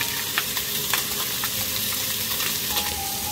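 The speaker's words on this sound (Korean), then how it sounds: "집에 숯불이 없는 관계로 후라이팬에 구워요" Two large eels frying in an oil-coated frying pan at home, a loud continuous crackling sizzle with small pops and spatters, close up and without talk.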